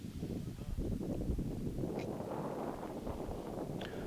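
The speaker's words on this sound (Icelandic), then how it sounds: "Það hefur verið að vera heldur að bæta í vind" Steady wind buffets the microphone over an outdoor football pitch during a match. It makes a continuous low, rumbling roar with no clear gusts and faint higher sounds in the background.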